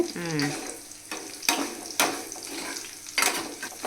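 Garlic and curry leaves sizzle in hot oil for rasam, a steady frying hiss broken by several sharp metallic clinks of a spoon stirring, with a brief voice at the start.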